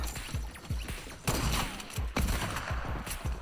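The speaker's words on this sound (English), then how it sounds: "We have the drum gun. Let's see the drum gun." Drum gun bursts in a Fortnite-style 1v1 shooter game, rapid shots in several short clusters with thumping impacts, loud and close, no talking.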